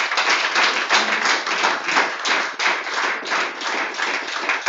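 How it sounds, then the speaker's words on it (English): An audience at an agricultural progress event for Nigerian women gives a sponsor a long, dense round of applause, steady and fairly close, with no talking over it. "Let's give a big round of applause to FCMB Bank."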